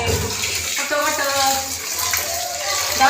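Turmeric-stained rice being rinsed in water, with sloshing and swirling splashes close by while someone talks over it.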